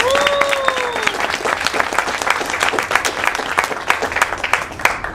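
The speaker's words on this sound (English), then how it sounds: "Give them a round of applause." An audience at a theatre class's final showcase breaks into lively applause, dense overlapping claps sustained throughout, with a brief voice heard near the start.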